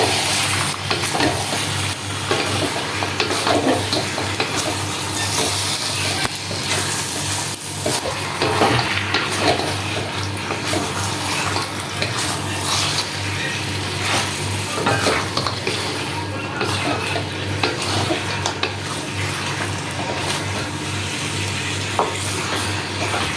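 Beef pieces going into well-fried spiced masala in a pot, a steady loud sizzle with stirring scrapes and utensil clatter continuing throughout.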